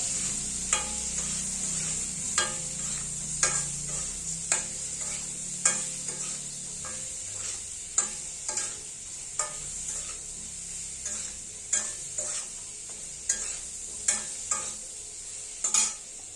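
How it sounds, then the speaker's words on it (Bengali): Radish and potato pieces frying with turmeric and salt in a pan, a steady sizzling hiss under regular scraping strokes of stirring, roughly one every second, close and fairly quiet, with no talk. "ভালো করে ভাজা ভাজা করে নেব।"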